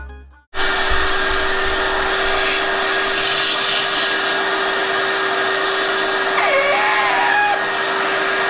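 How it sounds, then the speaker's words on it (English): Vacuum cleaner running steadily and loudly while cleaning debris around the open engine valley of an LS6 V8 during valley cover and PCV installation, a constant whine from start to finish after a brief quiet moment at the beginning. "We're gonna try to vacuum up as much as possible, especially around this area."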